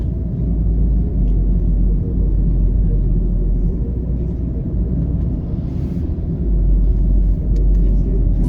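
A car drives along Paisley Avenue in May Pen, Jamaica, heard from inside as a loud, steady low road rumble and engine drone that persists unbroken.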